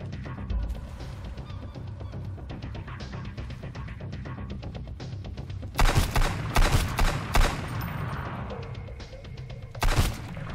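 Pistol fire in the survival game Sunkenland, a run of sharp, loud shots in quick bursts near the end, over steady background game ambience with no talking.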